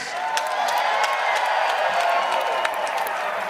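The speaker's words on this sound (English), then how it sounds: "One more time, Fort Wayne, a round of applause for these two warriors." A crowd at the Art of Scrap 5 combat event in Fort Wayne applauds and cheers for two fighters after three rounds, a loud, dense, sustained roar of clapping and shouting with scattered sharp claps standing out.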